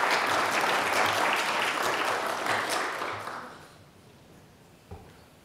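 Applause from an audience welcoming Dr. Barry Asmus, loud and dense for about three seconds before thinning out into scattered claps and a final lone tap.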